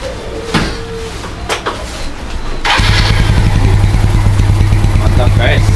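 Restored Yamaha Mio scooter engine starts and idles with a steady low hum, close and loud, after a stretch of clattering workshop noise; people talk nearby.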